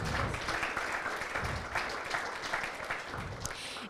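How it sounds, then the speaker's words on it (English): An audience at a youth advocates public forum gives a round of applause for the first group of presenters, dense steady clapping throughout that swells and eases in small waves. "Just a big round of applause"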